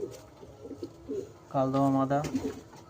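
Close pigeons for sale coo in a low, rolling burble that swells midway, over a soft background murmur.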